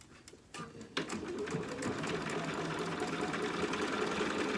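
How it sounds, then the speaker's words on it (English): A sewing machine runs a basting stitch on a mouse dress dog outfit, starting with a few stops and clicks, then a steady close mechanical whir and rapid needle chatter. "And we'll get both of these sewed down."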